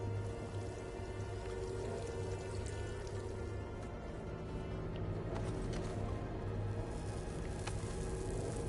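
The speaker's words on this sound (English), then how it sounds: "There's the rain." Rain falls in the Horizon Forbidden West video game as a faint, steady hiss of scattered drops over a low, constant ambient hum, with no talk.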